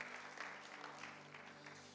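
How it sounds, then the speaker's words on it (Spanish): Church congregation applauding in a broad, steady wash of clapping that runs the whole time at moderate level, with a faint low hum beneath. "Un aplauso fuerte al Señor el día de hoy."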